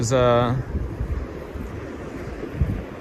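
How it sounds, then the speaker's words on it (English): Blustery wind buffets the microphone with low rumbling noise, after a brief voiced sound at the start. "It's a little windy now, sorry. Hopefully the sound isn't too terrible."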